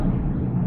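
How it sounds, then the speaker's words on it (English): A deep, steady roar of an airplane passing overhead fills the moment, broad and rumbling. "sorry for the noise because there's a plane flying over"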